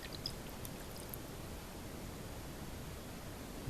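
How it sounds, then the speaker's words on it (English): Water is poured into a coffee maker in a hotel room, making a steady, soft rushing hiss that runs evenly from start to finish with no talking. "And then we're going to pour the water into the coffee maker."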